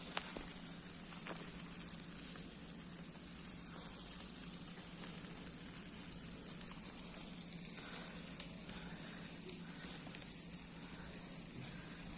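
Chicken grills slowly over a gentle charcoal fire, giving a steady, low sizzling hiss with a few scattered pops and crackles. No one speaks.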